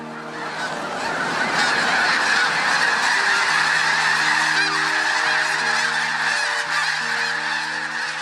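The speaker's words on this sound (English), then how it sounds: "the refuge is best known for the thousands of sandhill cranes and geese that winter here every year" Many geese honk continuously from a large flock, overlapping calls forming a dense, steady chorus at moderate distance, no talking.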